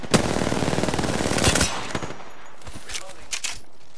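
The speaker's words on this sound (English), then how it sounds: "Opening fire." Rapid automatic gunfire in Apex Legends, a loud sustained burst of shots for about two seconds, then scattered single shots and faint game sounds.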